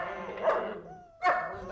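A dog gives two short barks or yelps about a second apart, fairly close and moderate in level, with no clear talk alongside.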